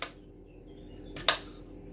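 A knife cuts smoothie ingredients on a board: two short, crisp chops, one at the start and a sharper one near the end, in a quiet kitchen.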